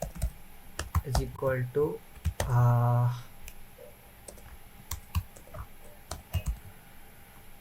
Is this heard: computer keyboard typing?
yes